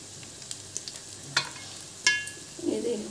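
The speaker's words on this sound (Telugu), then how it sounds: "ఇప్పుడు కరివేపాకు వేసుకోవాలి. ఇంకా జీడిపప్పు వేసుకుంటున్నానండి." Curry leaves and cashews hit hot oil in a pan while cooking jeera rice, giving soft sizzling, light crackles and a few stirring scrapes, with a brief burst of spitting near the end.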